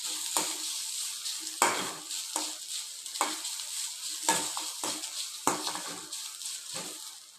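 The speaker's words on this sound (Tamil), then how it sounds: "அது கூட திருகின தேங்காய் கொஞ்சம் போட்டுக்கோங்க. நல்லா பொன்னிறமாக ஆகுற வரைக்கும் வறுக்கணும்." Fennel seeds and grated coconut are dry-roasted in a pan and stirred, producing a quiet hiss broken by regular scraping strokes roughly once a second, close and unaccompanied by speech.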